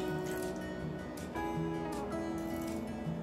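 Water is poured into a Thermomix bowl while making godamba roti dough, a steady, continuous trickle with a faint hum running underneath.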